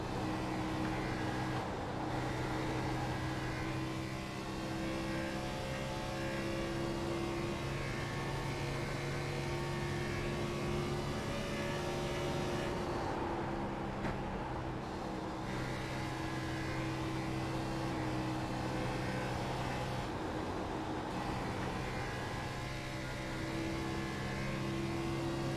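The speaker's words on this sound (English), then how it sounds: "we'll let you guys enjoy the sound of these engines as they come around and make a few laps here" Stock car engines from an ERA Racing League Coca-Cola 600 race in a racing video game, a steady, loud multi-car engine drone with sustained harmonic tones and brief dips as cars pass, with no talk over it.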